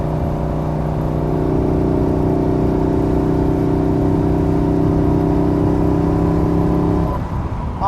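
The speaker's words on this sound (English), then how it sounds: "It sounds rattly, doesn't it? I think it's a little bit of pre-ignition." A rattly engine with slight pre-ignition in a 2013 Morgan 3 Wheeler runs steadily with a droning, uneven hum, close and loud, then cuts off near the end.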